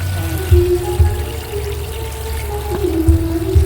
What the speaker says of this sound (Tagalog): Tapos lagyan natin siya ng tubig.